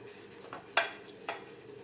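A spoon stirring a coconut and roasted cashew pancake filling in a pan, with a few brief scraping clinks spaced apart, fairly quiet and close.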